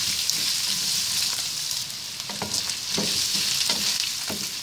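Beef kaldereta stirred in a frying pan, a steady loud sizzle with repeated scraping strokes of the spoon, close and continuous, no voices.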